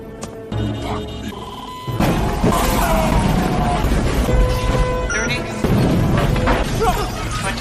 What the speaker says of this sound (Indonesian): ledakan besar terjadi di belakang mereka, menghancurkan bangunan